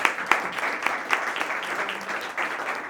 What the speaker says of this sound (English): Can we get one more round of applause for all of our amazing speakers?